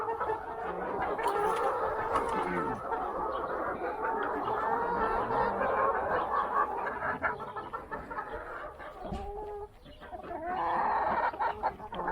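Hens clucking and squawking continuously nearby in a chicken coop, a busy flock with overlapping calls and occasional louder cries, no talking.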